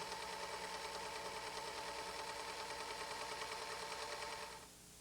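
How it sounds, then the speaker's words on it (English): A Kenmore 16633 serger overlock machine sews fabric with a steady, fast mechanical whirring, running close and even for about four and a half seconds before stopping abruptly, leaving only quiet room tone. "Pull the fabric so that the seam line becomes straight. And continue sewing."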